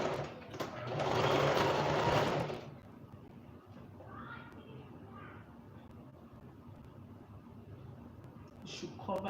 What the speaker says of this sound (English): So I will stitch it now.